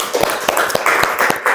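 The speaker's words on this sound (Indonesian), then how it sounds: "Tepuk tangan dong." Audience clapping at a school interview session with a student, a brief scatter of separate hand claps, fairly close and loud, with no talking over them.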